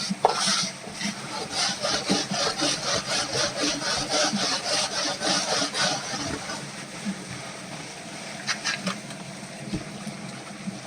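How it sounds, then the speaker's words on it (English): Rapid back-and-forth brushing of a mined rock to clear off dirt and mud at a gem mine in Hiddenite, North Carolina, a steady rhythmic rasping that pauses briefly near the end, heard up close without talk. "Just scrub the heck out of it. Get that dirt and mud out of there."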